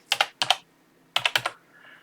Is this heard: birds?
no